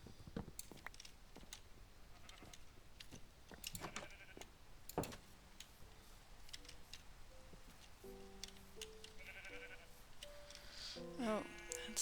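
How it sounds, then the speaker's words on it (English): Minecraft sheep from an All the Mods 11 modpack bleat several times, short nasal calls scattered among game clicks and footsteps, with the loudest bleats near the end over a quiet background. "Oh, let's shear some sheep."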